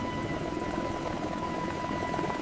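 Steady helicopter rotor and engine roar, constant and fairly loud throughout, with no voices.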